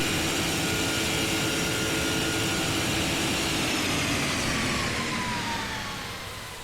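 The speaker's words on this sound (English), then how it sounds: "Listen to those engines." Jet engines of an Emirates airliner climbing over London in Flight Simulator 2024 produce a loud, steady roar that holds throughout before easing slightly at the end.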